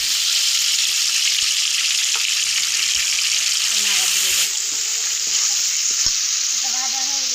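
Blended paste sizzles loudly in hot oil in a wok, a steady broadband frying hiss with occasional stirring scrapes and clinks, close and continuous throughout.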